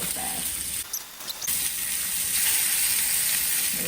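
Salmon sears in a hot pan with a loud, steady crackling sizzle throughout, briefly dipping for a moment before the frying hiss resumes strongly.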